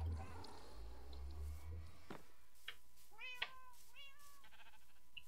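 A Minecraft cat meows several times in short, rising-falling calls midway through, clear over a low game background, with a faint voice underneath.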